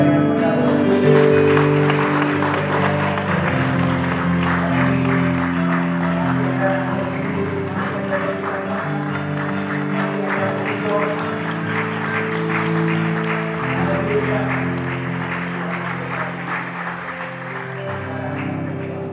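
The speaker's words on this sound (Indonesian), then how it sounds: "Mari jemaat kita berikan aplaus" A church congregation applauds at a wedding ceremony: a dense, steady wash of clapping from many hands lasts the whole stretch at fairly loud level, with sustained tonal music running underneath.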